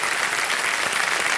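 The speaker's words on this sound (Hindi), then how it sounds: "तालियां बज जाएं एक बार फिर से उनके लिए।" A studio audience on the Hindi television quiz show Kaun Banega Crorepati, Season 14, bursts into loud, dense applause, a continuous wash of clapping hands filling the room.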